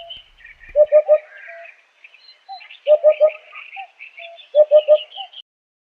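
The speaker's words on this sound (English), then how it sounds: "Another bird sound. That's a hoopoe." Repeated triplets of soft, low hollow hoots, "oop-oop-oop", in three evenly spaced bursts, with thin higher chirping from other birds in the background.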